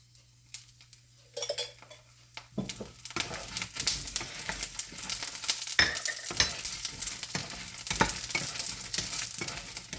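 Bitter gourd (karela) with chillies frying in a little oil for chutney: quiet at first, then a steady crackling sizzle builds after a couple of seconds, with stirring scrapes and utensil clinks, no talking.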